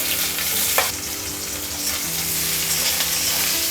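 Chopped onion hits hot mustard oil already holding cumin, setting off a loud, steady sizzle with brief stirring scrapes and a sharp clink near the start, no voices present.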